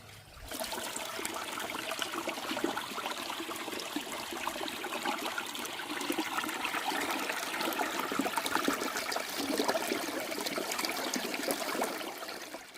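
Irrigation water gushes steadily into a farm field with a continuous close rushing, splashing flow that stays loud and even throughout, with no voices.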